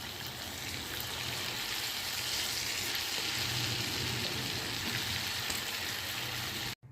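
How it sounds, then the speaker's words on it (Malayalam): Sheeda, a traditional Kerala Onam snack, deep-fries in hot oil with a continuous bubbling sizzle that runs steadily and close, without voices, before cutting off abruptly at the very end. "ഇനി നമുക്ക് ബാക്കിയുള്ളതും കൂടെ വറുത്ത് കോരാം കേട്ടോ"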